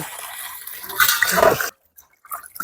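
Water splashes and rushes over Kozhikode beef as it is washed, swelling for under a second and then cutting off to near silence before faint sloshing returns.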